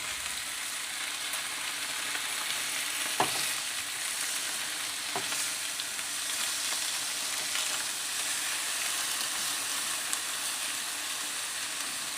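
Chilli bacon fries in a pan with a steady, soft sizzle and crackle, broken by a couple of brief sharp clinks from stirring or utensils, with no talking.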